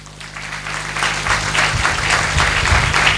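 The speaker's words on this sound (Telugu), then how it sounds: "ఈరోజు చప్పట్లు" A church congregation at the consecration of a new St. Anthony's church breaks into applause that swells within the first second and then carries on as dense, steady clapping from many hands.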